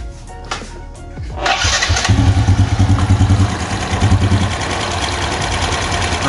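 A Yamaha Jupiter Z1 motorcycle engine with a hissing fault starts up and runs while its exhaust outlet is blocked. It sputters and catches, then settles into a loud, pulsing, uneven idle close by.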